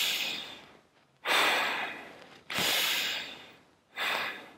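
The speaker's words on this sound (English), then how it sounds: "is what we call breathing, taking in air and bringing it out." A person breathes slowly in and out, close to the microphone, with three loud, airy breaths separated by short pauses.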